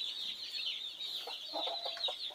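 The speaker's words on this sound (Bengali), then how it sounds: "আজকে নতুন একটা মুরগি" A new hen clucking softly while laying her first egg, a few short, quiet clucks in the second half over a steady, high-pitched chirring background.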